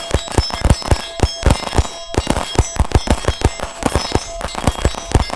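Rapid gunshots fired while moving at an outdoor shooting range, a dense string of sharp, loud, close reports at an uneven quick rhythm with bright ringing after each shot.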